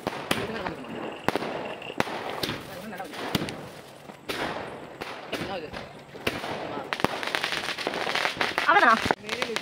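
Repeated sharp Diwali firecracker bursts pop and crackle in uneven clusters outdoors, with voices talking between and under the bangs.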